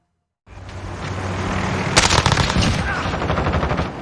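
MP5 submachine gun in Call of Duty Modern Warfare on an oil rig map, rapid automatic bursts after a brief silence, loud and close, with rattling shots that intensify midway.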